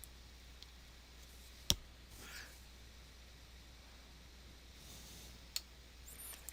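One sharp, close computer mouse click stands out in a quiet room, followed by a couple of fainter clicks later on, with a low hum underneath.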